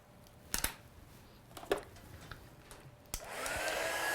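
A heat tool switches on and blows a steady whooshing roar while setting embossing powder on a card, preceded by a few sharp handling clicks and taps at close range.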